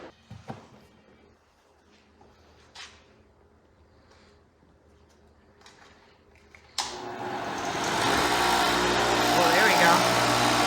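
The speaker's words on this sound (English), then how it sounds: "So we're just gonna plug this grinder in." An angle grinder runs on power from a BLUETTI AC200MAX station, starting abruptly after a quiet stretch of faint handling sounds and then holding a loud, steady whining hum to the end.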